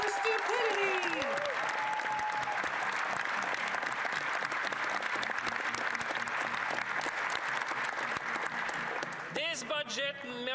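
Applause from members in the Canadian House of Commons on budget day, a sustained dense clapping that fills the chamber, with voices talking over it and a few cheers near the start.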